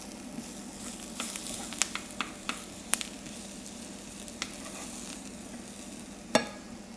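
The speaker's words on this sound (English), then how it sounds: "You hear the sizzle." Garlic frying in a pan for mushroom risotto gives a faint, steady sizzle, broken by a few sharp clicks and taps of stirring, quiet and close with no voices.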